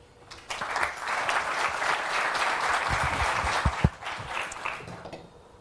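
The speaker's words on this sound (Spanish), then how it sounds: "Un aplauso." An audience at a technical talk on writing PHP extensions in C claps steadily for a few seconds, swelling in and then fading, moderately distant with no voices.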